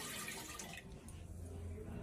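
Water poured from a tap into a steel pitcher while cooking pulao in a home kitchen, a steady rushing splash that shifts lower in pitch as the vessel fills, continuous and close.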